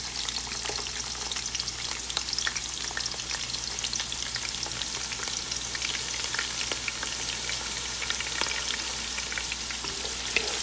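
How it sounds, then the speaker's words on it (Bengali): Chopped onions deep-fry into crisp birista for chicken biryani, a steady dense crackling sizzle with scattered pops that holds evenly throughout, close and alone with no voices. "1 কাপ পরিমাণ পেঁয়াজ কুচি বেরেস্তা করে নিব।"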